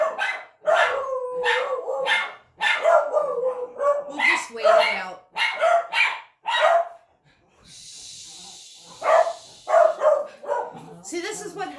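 Two dogs bark and yelp in bursts, loud and close, overlapping with someone talking indoors.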